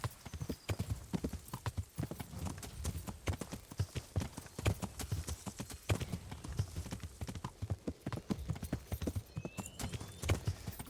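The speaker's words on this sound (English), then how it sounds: "You see, that's why I bought this horse." Horse hooves clip-clop steadily and close while riding in the video game Kingdom Come: Deliverance, a dense, continuous rhythm of hoofbeats with occasional brief whinnies and no talk.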